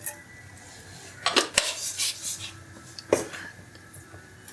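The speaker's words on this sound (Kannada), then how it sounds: "ಸಾಸಿವೆ ಹಾಕ್ತೀನಿ." Mustard seeds dropped into hot oil for tempering a black-eyed pea huli rattle and crackle against a metal pan in a few bright bursts, close and fairly loud over a quiet kitchen background.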